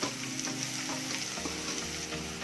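Chopped onion and curry leaves frying steadily in a pan while mushroom pepper fry is cooked, a dense, continuous sizzle with crackling spits and stirring scrapes, close and loud with no talking.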